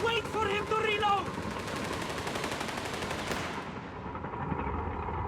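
Machine gun fire in a Company of Heroes 3 battle rattles out as rapid, continuous bursts, loud and close, with a voice speaking briefly near the start.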